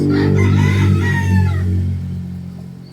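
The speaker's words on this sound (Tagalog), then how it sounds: "Yan yung manok na nangingitlog" A rooster crows loudly and close, a long drawn-out call that fades toward the end.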